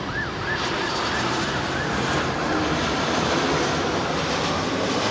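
A Royal Air Maroc Boeing 737 Max jet at London Heathrow, a loud steady roar of jet engines filling the whole stretch with a faint whining tone sliding over the rumble, no pause or letup.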